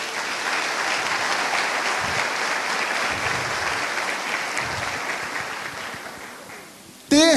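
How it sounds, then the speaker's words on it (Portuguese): Church congregation at a Portuguese-language service applauding, a dense steady clapping from many hands that fills the room, then slowly fades over about seven seconds before a voice returns at the end. "Você pode dar um aplauso ao Senhor?"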